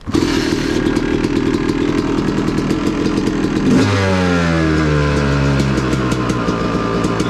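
A Yamaha YZ250 two-stroke dirt bike engine fires up, already warm, and idles with a loud, close, rapid buzzing putter before rising into a sharp rev that sweeps upward and holds at a high pitch.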